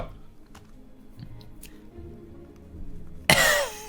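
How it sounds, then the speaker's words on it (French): A small, weak cough from a man, not a hearty one, bursts out near the end after a few seconds of quiet mouth and throat noises. "C'est même pas une toux d'homme, une toux franche."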